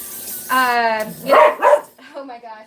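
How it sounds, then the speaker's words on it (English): Dogs indoors bark loudly in several close, quick bursts while a person speaks briefly between them. "sorry about the dogs"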